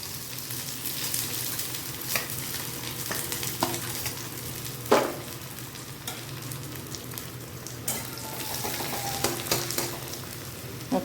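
Fried onions with spices stirred in a pan, sizzling steadily, with intermittent scrapes and clinks of a spoon against the pan and no talk.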